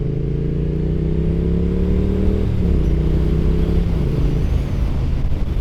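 A Triumph Street Twin motorcycle engine revs loudly and close up on a wet ride, its droning note holding steady and then stepping down in pitch, with no voices.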